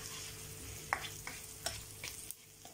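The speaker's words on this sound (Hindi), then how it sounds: "ये प्याज को तकरीबन हम 2 मिनट के लिए भूनेंगे।" Chopped onions fry in oil left from cooking seekh kebabs for a karahi, giving a steady soft sizzle with a few light clicks from stirring. No voices are heard.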